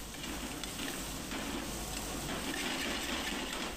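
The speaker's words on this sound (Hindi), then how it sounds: "अब हम इसकी अच्छी तरह भुनाई कर लेंगे।" Whole pickle spices for a mixed vegetable pickle roast in a pan, giving a steady, dense sizzle and crackle that stays close and even throughout, with no voices.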